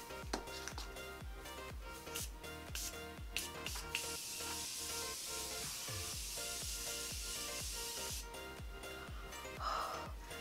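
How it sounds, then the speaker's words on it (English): A Morphe Continuous Setting Mist sprays onto a made-up face: a steady airy hiss lasting several seconds, heard over rhythmic background music. "I'm going to take this Morphe Continuous Setting Mist, and I'm going to just pretty much set my whole entire makeup"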